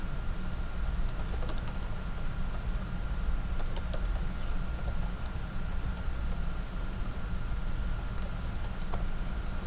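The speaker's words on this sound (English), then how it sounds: "type your email address" Steady typing on a computer keyboard, rapid light key clicks running continuously over a low background hum.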